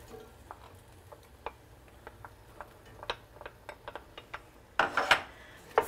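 A spoon stirs celery and long red chilies into lamb in a pot for a paleo curried lamb hotpot, making light scattered ticks and scrapes that build to a louder clatter of stirring near the end, with no talk.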